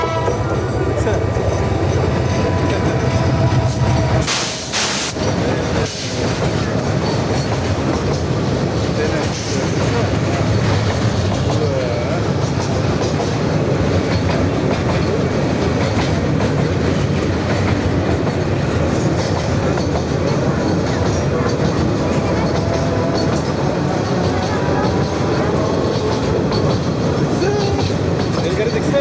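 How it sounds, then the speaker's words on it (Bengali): A train rolls through a railway station at Lalmai, Comilla, a loud, continuous rumble with steady clattering wheels close by for the whole stretch, and people talk faintly under it. "এই যে ট্রেন আসতেছে"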